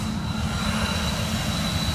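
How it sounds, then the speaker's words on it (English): A train runs along a railroad in Temple, Texas, a loud, steady rumbling roar of rolling wheels with a thin high whine over it, continuous from start to end. "There comes a train coming down the railroad."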